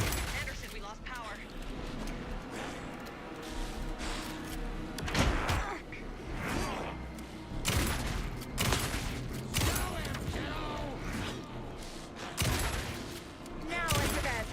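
Gunfire erupts in the video game Alan Wake 2, repeated sharp bursts and shots scattered among loud game effects, with voices talking over the action.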